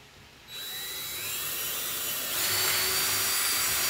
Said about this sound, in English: Countersink just a little bit.